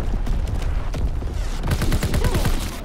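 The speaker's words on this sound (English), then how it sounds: "Enemy artillery." An incoming artillery barrage in Call of Duty WW2 multiplayer, dense rolling bursts of explosions and rapid gunfire packed tightly together, loud and continuous with no talking.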